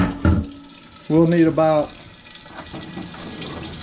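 Water is poured into a red copper pot with a rack in the bottom, set up for steaming blue crabs; a steady splashing flow runs under and after brief speech.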